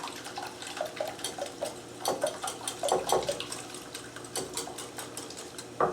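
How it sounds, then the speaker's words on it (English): A small whisk stirs eggs and cream together in a bowl for blood sausage, making a steady, rhythmic run of light clicking strokes close by, with no talk. "I have a bowl here, a little whisk, and slowly I mix my eggs together and slowly I incorporate the cream"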